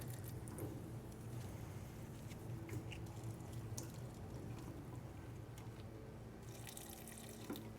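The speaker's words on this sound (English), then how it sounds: "Add a little bit of water." Water trickling and dripping from a small pour onto a potted Alocasia Pink Venom houseplant, a steady soft splashing that runs for several seconds with no talking.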